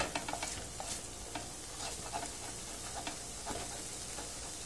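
Scrambled egg with vegetables is tossed in a pan, giving a steady broad sizzle broken by repeated light scrapes and clicks of a utensil against the pan, fairly close and without any talk.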